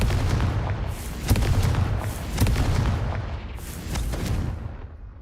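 Confringo fire spells in Hogwarts Legacy, played on a low-to-medium PC with an RX 580 4GB, blast in a run of heavy booming explosions, each deep thud rolling into a rumbling tail, loud and close.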